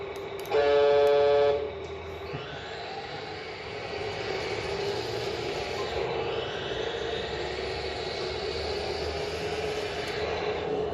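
A remote control Welly Volvo miniature truck sounds a short, bright, loud horn blast lasting about a second, followed by a steady electronic engine-like hum that continues to the end.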